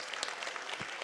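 Brief burst of clapping from a gathered audience at a sewing-centre anniversary celebration, welcoming a woman to the stage; close, steady and fairly faint.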